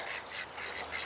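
Black runner and Welsh Harlequin ducks quack in a muddy yard after rain, several quick nasal calls in a row, faint and a little distant.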